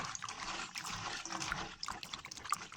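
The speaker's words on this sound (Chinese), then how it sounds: "再次倒入大盆中，加水， 再清洗几次就可" Edamame soybeans being washed by hand in a basin of water, with close-up sloshing, splashing and trickling in uneven bursts over a short stretch.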